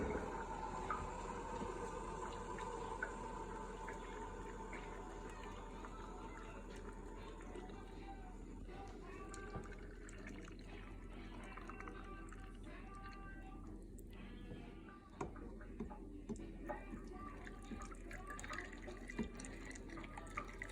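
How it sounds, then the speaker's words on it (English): Near-boiling water is poured into canning jars packed with carrots, a steady liquid splashing and trickling close by that fills most of the stretch, with faint drips and clinks toward the end. "we're gonna fill these up to the top with also near"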